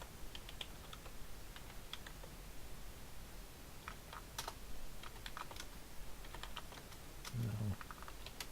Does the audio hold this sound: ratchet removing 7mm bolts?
no